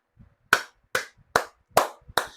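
Five sharp, isolated hand claps from a single person, spaced about every half second, each crisp and close with brief silence between them.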